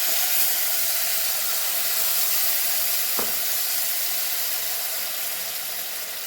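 Whole spices and green chillies tempering in hot oil give a steady, close hiss and sizzle that holds evenly throughout, with no talking.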